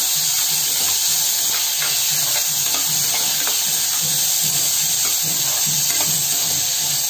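Tomatoes fry with garlic in a pan, a continuous bright hiss and sizzle with soft bubbling pulses underneath, close and even in level, alone without any talking.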